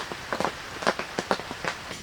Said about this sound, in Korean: 비가 너무 많이 와가지고 여기 물이 고일까봐 걱정이에요